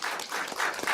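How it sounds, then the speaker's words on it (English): Audience applause for a cheer team roster and coaches at a city council meeting, a steady wash of many hands clapping that fills the whole second without a break. "Let's give the roster and coaches a round of applause."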